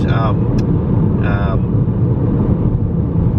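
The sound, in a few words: road noise inside a moving car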